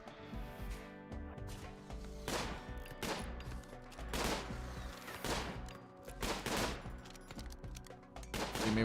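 Rapid bursts of video-game gunfire at enemies: repeated rattling volleys, fairly quiet and spaced out over several seconds, over a steady background of music.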